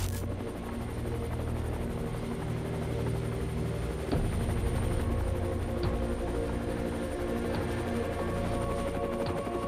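A helicopter flying over the burning remains of a reactor, its rotor and engine giving a continuous, steady loud drone with a faint rhythmic chop throughout.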